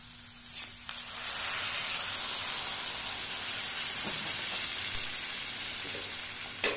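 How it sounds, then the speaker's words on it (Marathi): Mixed vegetables for a Marathi festive bhogi sabji hiss and sizzle steadily in a hot pan after water is poured in, a loud continuous frying crackle with no talking. "आणि याच्यामध्ये आपण पाणी घालून घेऊ"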